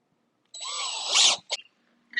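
A power drill driving screws into an exterior garage door whirs steadily for about a second, rises in a brief strained burst, then gives a couple of short clicks and a final short whir, close and alone.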